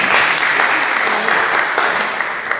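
A crowd at a song launch applauds steadily and loudly, a dense wash of clapping that holds at an even level throughout.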